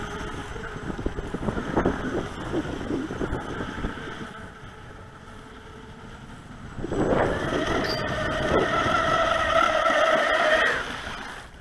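A small radio-controlled boat motor whines steadily over wind and water noise, then revs up to a higher, louder buzzing pitch that holds before easing off.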